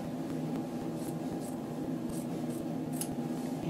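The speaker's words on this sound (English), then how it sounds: "I'm going to switch to my mini hoop scissors, and right here we are going to trim it close to stitching" Small hoop scissors snip fabric close to stitching in quick, quiet cuts over a faint steady hum, several short crisp clips spaced irregularly.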